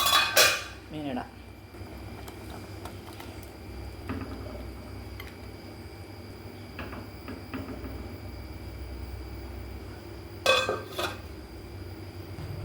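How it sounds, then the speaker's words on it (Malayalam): Soaped dishes and cutlery being washed and stacked in a kitchen sink: a burst of clattering pots and clinking utensils at the start and again near the end, with quiet handling between. "പാത്രം ഇതെല്ലാം കൂടെ സോപ്പ് തട്ടിയാൽ ഈ സൈഡിൽ വെക്കും"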